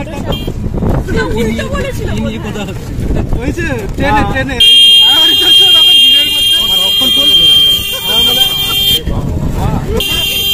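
Over busy talk on a crowded main road full of pedestrians, a motorbike horn blares in one sustained, shrill blast lasting several seconds before the chatter resumes.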